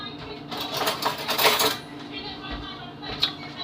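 A metal spoon is picked up and handled near a workspace, giving light clinks and scraping rattles in a short cluster, then a single sharper tap near the end, with no talking.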